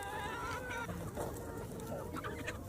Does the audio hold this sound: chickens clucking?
yes